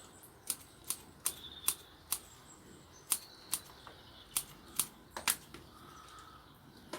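Scissors snipping plant leaves during garden propagation, a dozen or so crisp sharp cuts at an uneven pace, close and fairly quiet with no talk.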